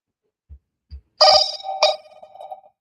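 Outgoing phone call ringing tone, a clear electronic ring in two pulses after a few soft low thumps, close and alone with no speech.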